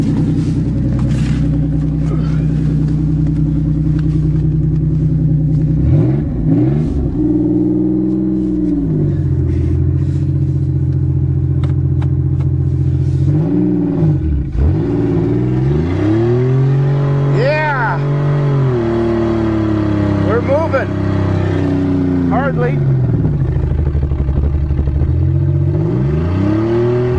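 A 1990 Chevrolet Celebrity engine revs and strains in deep snow during a burnout attempt, the rising and falling engine note sweeping up and down in repeated loud bursts over a steady low rumble, with some talk mixed in.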